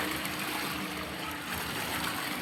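Strong flow of spring water pouring and rushing steadily outdoors at a natural spring, a continuous close broadband wash with no breaks or voices.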